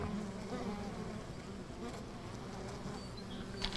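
Bees buzz around a beehive in the Medieval Engineers video game, a continuous soft droning hum with faint fluttering, steady and low in level throughout.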